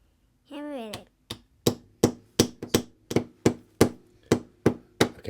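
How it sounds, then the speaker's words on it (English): A wooden dowel is hammered into a hole during a small woodworking project, a dozen or so sharp, evenly spaced knocks ringing out close by after a brief voiced sound at the start. "First, you have to put the dowel in. Hammer it in."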